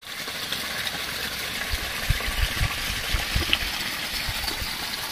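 Irrigation water trickles and flows steadily into a banana plantation's field channels, a continuous soft wash with occasional low gurgles and splashes nearby.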